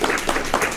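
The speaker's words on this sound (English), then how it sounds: "Let's give our presenters a round of applause" Audience applause at a town budget public forum in a school, steady broadband clapping from a crowd with no talk, close and moderately loud throughout the brief moment.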